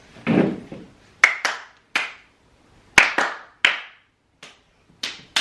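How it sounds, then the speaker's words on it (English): Hand claps in a homeschool family rhythm game: a short spoken word first, then about nine sharp, close claps in an uneven pattern with pauses between. "Can you clap rhythm?"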